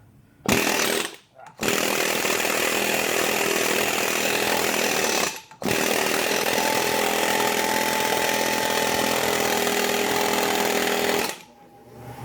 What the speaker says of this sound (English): using the Matco air hammer again, and it's actually pushing it out